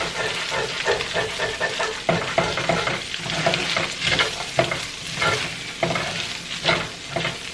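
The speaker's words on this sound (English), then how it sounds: "so once my vegetables have fried up and gotten a little soft" Vegetables fry in a pan for fried rice with a steady, loud sizzle up close and rhythmic scraping and stirring strokes throughout, with no voices.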